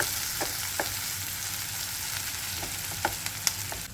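Onions sautéing in a pan for an eggplant bharit, a steady broad sizzle with scattered scraping clicks of a spatula, close and even throughout, no talking.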